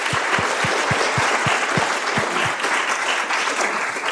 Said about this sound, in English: so we might as well give everyone a round of applause.